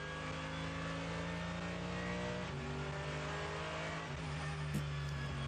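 Race car engine onboard with Max Verstappen in qualifying at the Nürburgring 24 Hours, driving on cold front tyres and cold brakes uphill: a steady loud engine drone, one short throttle blip, then lifting off again, with no speech.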